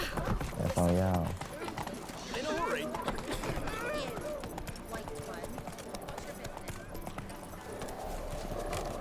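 Horse hooves clip-clop steadily in The Witcher 3, a trotting rhythm up close that runs under characters speaking.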